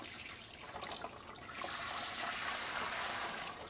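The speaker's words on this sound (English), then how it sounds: "So our next step is to fill our canner with water." Water pours steadily into a metal steam canner, about 3 quarts, a continuous rushing splash that grows slightly fuller as it runs, with no voices.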